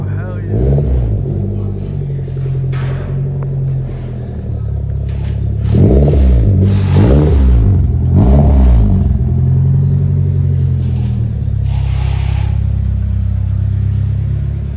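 A Nissan S14 engine with a deep, throaty aftermarket exhaust from Japan revs up several times in quick succession, then settles into a loud idle, close by.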